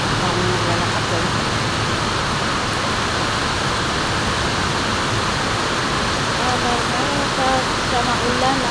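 Steady, dense hiss of morning rain falling on surfaces at a park in Malaysia, constant and enveloping throughout with no breaks.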